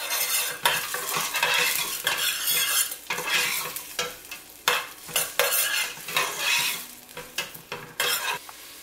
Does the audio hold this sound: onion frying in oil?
yes